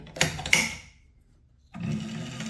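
A 7x14 two-speed mini lathe with an upgraded motor gives a couple of sharp clunks, goes quiet, then spins up with a steady hum and gear chatter.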